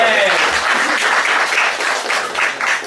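A crowd at a results announcement event applauds for a special guest in a dense, steady wash of clapping, loud and sustained, with voices faintly beneath.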